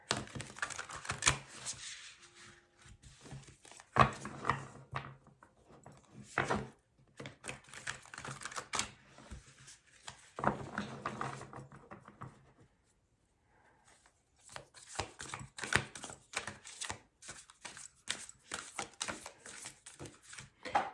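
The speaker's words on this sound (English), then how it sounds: "when I was shuffling these cards" A deck of tarot cards is shuffled in repeated crisp riffling bursts, close and fairly quiet, with short pauses between rounds and no talk.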